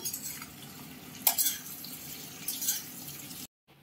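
Tender young jackfruit seeds dropped into a frying pan and stirred in with frying jackfruit, a couple of sharp scraping clinks of a spatula against the pan over a low sizzle, ending abruptly.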